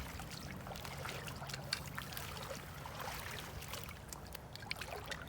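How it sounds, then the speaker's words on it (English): Creek water is stirred and splashed as someone kicks up the streambed substrate upstream of a net while sampling aquatic macroinvertebrates, producing a steady, faint trickling and sloshing flow with small intermittent splashes outdoors. "He's just randomly sampling the creek by disturbing the substrate upstream of his net."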